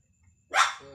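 A single short bark or yelp from a Shih Tzu giving birth, close by and moderately loud, rising suddenly and trailing into a brief whine in an otherwise quiet room.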